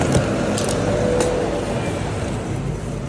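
Road traffic from busy streets makes a dense, steady wash of engine rumble and passing vehicles, with a few brief higher clanks, loud and continuous throughout.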